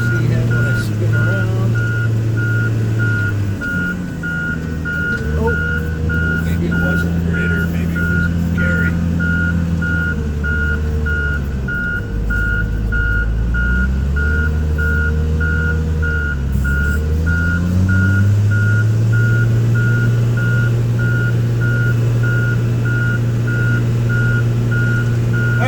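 A snow plow truck passes on a winter road, its steady reversing beeps repeating at an even pulse over the low engine drone. Close, loud, continuous sound, with faint talk underneath.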